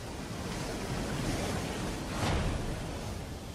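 Ocean waves of a tsunami roll in as a dense, continuous roar of surf, loud and close, with a brief swell of rushing water partway through and no voices.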